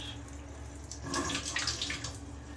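Tap water runs into a sink while fish are washed, a soft steady splash that swells into brighter, noisier spattering partway through, close and fairly quiet, without speech.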